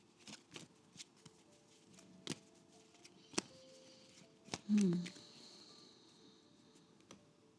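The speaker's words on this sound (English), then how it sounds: "So we start shuffling the cards and ask for clarification." A deck of tarot cards shuffled softly nearby, heard as scattered sharp card snaps and taps spaced irregularly over several seconds, with a brief murmur of voice in the middle.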